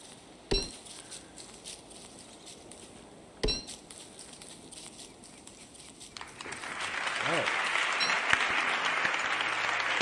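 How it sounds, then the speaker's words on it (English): Two sharp clinks early on, then a swell of applause from a crowd that builds and continues steadily to the end. "Applause! Let's go."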